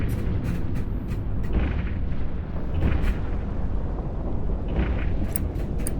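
Spaceship combat in EVE Online, with a dense, continuous barrage of booming impacts and bursts from weapons fire hitting a ship, loud and sustained throughout with periodic sharper cracks and no talking.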